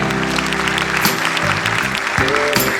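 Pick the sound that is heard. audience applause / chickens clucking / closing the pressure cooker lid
audience applause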